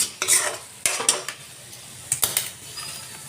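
Vegetables with tomatoes being stirred and frying in a pan, with a steady sizzle and several sharp scraping strokes of the spoon against the pan, close and fairly loud.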